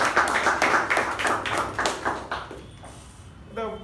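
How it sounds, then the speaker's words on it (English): A small Toastmasters meeting audience applauds with rhythmic clapping that tapers off and fades, followed by a brief voice at the end. "Let's give him a special round of applause for"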